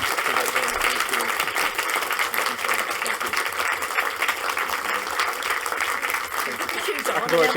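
Audience applause after a talk on the story of Graceland, steady, dense clapping from a sizeable crowd lasting throughout, with faint voices mixed in beneath it.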